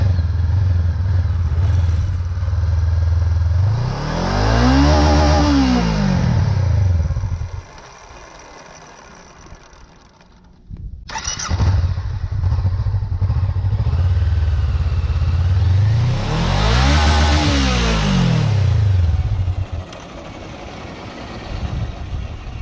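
A motorcycle engine runs close by and revs twice in long rising-and-falling sweeps, idling steadily between them, with a short drop to quiet in the middle.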